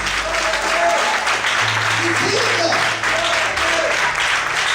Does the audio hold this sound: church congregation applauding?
yes